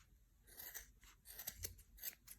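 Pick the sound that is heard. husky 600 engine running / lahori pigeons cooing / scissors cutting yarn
scissors cutting yarn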